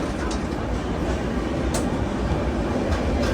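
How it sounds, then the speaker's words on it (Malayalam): A passenger express train pulling out of Salem Junction railway station, a continuous rumbling roar of wheels and carriages with faint rattles, heard from on board, steady throughout with no clear talking. "സേലം ജംഗ്ഷൻ റെയിൽവേ സ്റ്റേഷൻ ഇതാ നമ്മുടെ വണ്ടി എടുത്തിരിക്കുകയാണ്"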